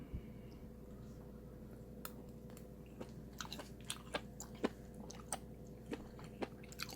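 Oyster mushrooms in spicy Korean beef soup are chewed close to the mic, with soft squishy bites and irregular crisp clicks over a quiet steady background.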